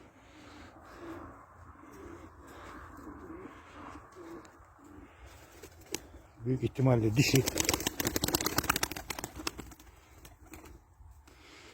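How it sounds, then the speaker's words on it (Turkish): A front-crested white pigeon coos in a short burst of low rolling notes, with a person talking before and over it and a noisy rustle following. "bakın ön perçem beyazımız bu yeni aldığımız bakın çok tetik bir kuş"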